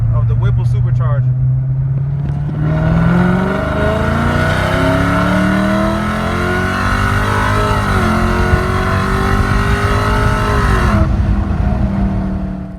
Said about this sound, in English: I recently had a Whipple Supercharger installed. And if you're new to my channel, I have a 2017 Scat Pack charger.